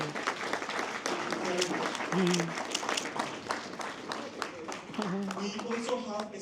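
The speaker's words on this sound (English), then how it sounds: "let's give him a round of applause" Applause from a conference audience fills the room steadily, with voices and murmured talk running underneath the clapping throughout.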